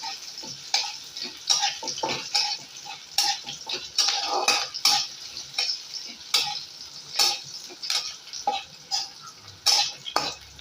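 Onions frying in a pan as the start of a soybean rezala, a close crackling sizzle with frequent sharp scrapes and taps of a spatula stirring throughout.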